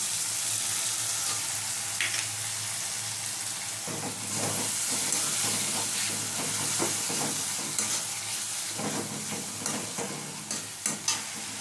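A little water goes into a frying pan of spiced masala and brings up a loud, steady close sizzle and hiss, with stirring scrapes and a few sharp taps toward the end.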